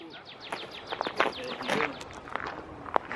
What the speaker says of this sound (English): You guys hear the birds, eh?